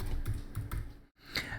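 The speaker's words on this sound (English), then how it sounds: "click the plus button and start typing collision" Several quick keystrokes on a computer keyboard, a short burst of clicking typing, a brief pause, then a couple more taps, close and moderately quiet.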